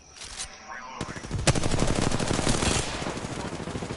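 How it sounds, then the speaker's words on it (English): Rapid automatic gunfire in the Apex Legends video game rattles loud and dense for about three seconds after a brief quieter lead-in, with sharp individual shots merging into a sustained burst. "I'm taking fire."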